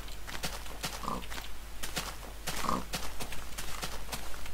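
Pigs in the video game Minecraft grunt and oink in short bursts over a low steady hum, with scattered clicks and taps between the calls.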